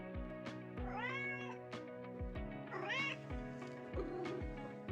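A kitten with cerebellar hypoplasia meows twice, each a rising, wavering cry close by, over steady background music with a regular beat.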